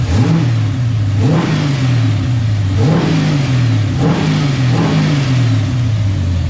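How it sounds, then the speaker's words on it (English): A car engine revs up repeatedly in quick bursts, pitch rising and falling back, loud and close with no talking. "Give her a few quick revs here."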